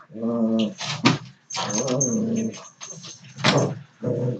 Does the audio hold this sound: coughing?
no